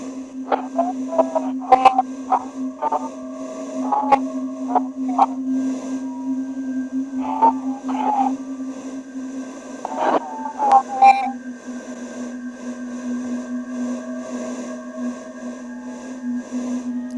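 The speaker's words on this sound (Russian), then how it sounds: "Tim recibe un mensaje de la caja de espíritus" A spirit box radio sweeps through stations with a steady hum, brief chirps and fragments of garbled voice popping in and out of static, in an abandoned house in Russia.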